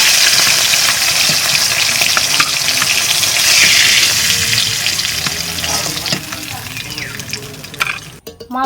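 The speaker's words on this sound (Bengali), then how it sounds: "মাছ তো ভাজা হয়ে গেছে" Raw hilsa fish frying in a pan, a loud broad sizzle that gradually fades over several seconds, ending with a few clattering knocks of the pan or utensil.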